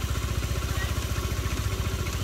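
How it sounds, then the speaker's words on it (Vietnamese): Motorcycle engine idling with its exhaust being used to inflate balloons, a steady low rhythmic putter with mechanical clatter, close and continuous. "Nổ máy thấy chưa?"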